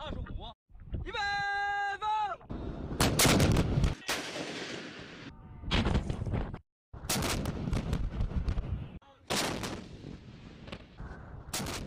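Artillery shells fired in a night live-fire military exercise: several loud, sharp booming blasts in quick succession with rolling echoes, and a sheep-like bleat near the start.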